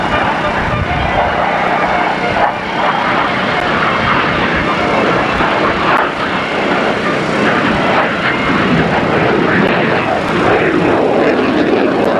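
A stunt airplane engine roars steadily during a 1986 Daytona Beach airshow wing walk and roll, loud and sustained across the whole stretch, with an announcer's voice faintly under the drone.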